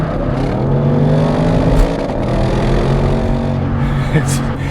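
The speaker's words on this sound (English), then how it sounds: "it kind of axle hopped because it couldn't keep traction as it upshifted from second to third" A 2023 Audi RS6 Avant's engine pulls hard under acceleration and briefly judders as the rear axle hops, losing traction on the automatic upshift from second to third, while a person talks over the steady drone.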